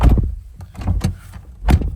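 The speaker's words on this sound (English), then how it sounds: "Let's jump in and shut the door." A door on a 2022 Toyota Hilux Double Cab pickup is pulled shut from inside the cab. Close, heavy thumps sound with a short rattle, and a firmer closing knock comes near the end.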